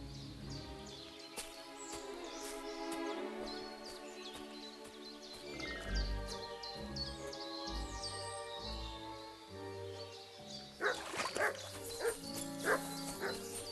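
A dog barks in the medieval game Kingdom Come Deliverance 2, giving a few separate barks over soft music and birdsong, followed by a louder cluster of clattering sounds near the end.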